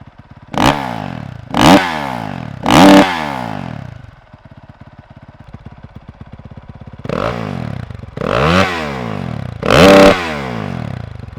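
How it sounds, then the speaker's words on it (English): A 2019 Honda CRF450R dirt bike with a Yoshimura RS-9T exhaust, heard in loud, close revving bursts: three sharp throttle blips, then a lumpy idle, then three more strong revs. "I'm out here testing the Yoshimura RS-9T exhaust system on the 2019 Honda CRF450R"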